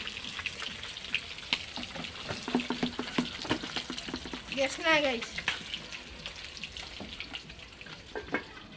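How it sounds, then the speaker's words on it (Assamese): Fish frying in a pan on a home stove gives a soft, steady sizzle dotted with small crackles and pops, fairly quiet, while a person talks over it. "এয়া মাছ ভাজি আছে"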